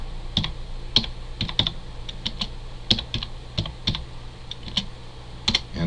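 Close, crisp clicks of someone typing on a computer keyboard, coming in irregular bursts of keystrokes with short pauses between, over a quiet room hum.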